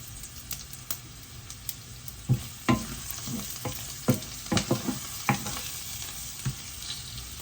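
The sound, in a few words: onions frying and being stirred in a pan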